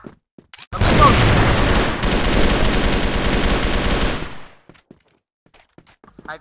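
Sustained automatic gunfire in a shooter video game on a harbor map, a loud continuous fusillade lasting several seconds before cutting off, followed by quieter scattered sounds.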